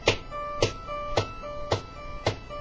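Short percussive guitar notes, finger-tapped as steady eighth notes with a softer note between each stronger hit, played alone and moderately quiet.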